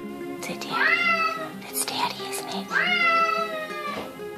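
A cat meows several times, long drawn-out rising cries alternating with shorter ones, close and clear, with a voice talking underneath.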